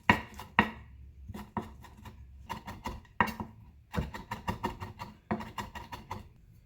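Knife mincing parsley on a cutting board: sharp, quick chops in irregular bursts with brief pauses, close and fairly quiet, with no speech over them.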